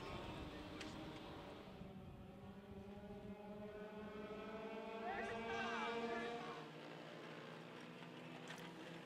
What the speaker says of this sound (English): Let's have a look at some kids who race go-karts